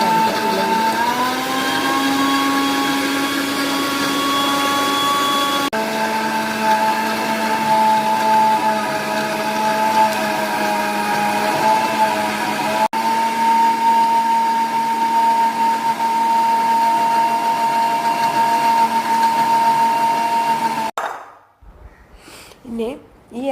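Electric mixer grinding pineapple, watermelon and grapes into juice, a loud continuous whirring drone with shifting pitch that runs unbroken for about twenty seconds, then cuts off abruptly into brief quiet.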